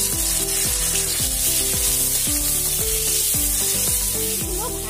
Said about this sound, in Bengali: এটা হালকা করে ভেজে নেব।